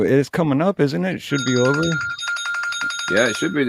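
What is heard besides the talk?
phone ringing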